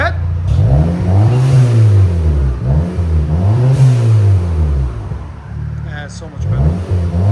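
A 2012 Audi TTS 2.0L turbo with a Vibrant resonator exhaust revs up and falls back twice in deep, droning swells, loud and close, and then drops to idle as people talk nearby.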